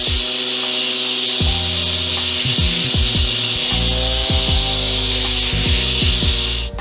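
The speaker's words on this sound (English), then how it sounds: "I'm sanding up to 120 grit." A power sander works a wooden guitar body at up to 120 grit, its loud motor whine rising and falling in pitch over a continuous gritty hiss.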